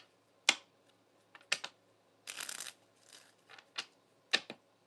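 Tarot cards being shuffled by hand, heard close and quiet as a few sharp slaps and clicks with one short riffling burst in the middle, separated by near silence.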